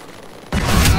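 In a shooter video game, a grenade blast hits suddenly halfway through, a loud burst that jumps from quiet background into dense, sustained gunfire and noise.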